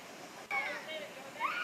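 The Muaro Cuban waterfall gives a steady broadband rush of falling water, heard from close by, with no talk over it.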